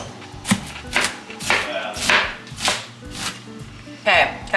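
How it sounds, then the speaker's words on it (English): Cabbage is chopped on a cutting board with a knife, producing about eight crisp, evenly spaced thuds and crunches that are close and clear with no talk. "Okay, cabbage is all cut up."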